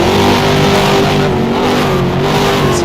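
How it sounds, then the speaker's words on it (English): Several race car engines in the ROX Series racing mod at an Italian Grand Prix drone loudly together at a steady, sustained rev, with a near-constant pitch and no talk. "drivers to your cars, start your engines, let's get this one on a roll"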